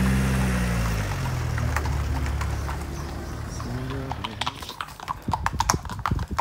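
A large horse's hooves clip-clop in a steady walking rhythm, close and clear, with the footfalls growing more distinct and sharper toward the end.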